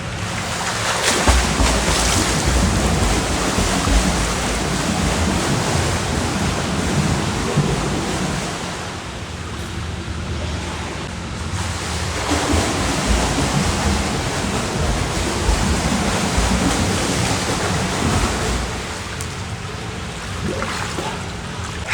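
Steady broadband splashing of flutter kicks in a swimming pool, ankles breaking the water surface, a continuous churning wash with slight swells and dips, close by and without voices.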